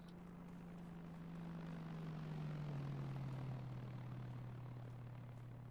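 In the Arma 3 game, an aircraft engine drones steadily at a distance, its pitch sliding slowly downward as it passes, quiet and unbroken with no voices.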